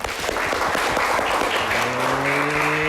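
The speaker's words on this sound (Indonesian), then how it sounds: "Berikan tepuk tangan untuk kita semua." Steady applause from a classroom of children at an Islamic religious education lesson, dense and continuous throughout, with a faint rising musical tone toward the end.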